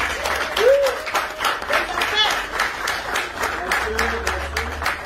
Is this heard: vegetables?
no